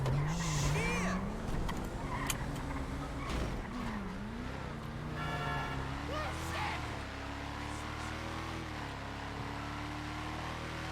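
Cars in a Grand Theft Auto roleplay chase roar and whine with shifting engine pitch, tires briefly squealing as they skid, steady and loud throughout with a voice talking over the action.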